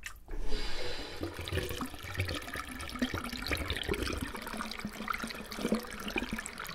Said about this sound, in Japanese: 妙に水の音がでかいな。